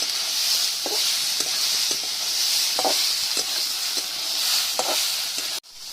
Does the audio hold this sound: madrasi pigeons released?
no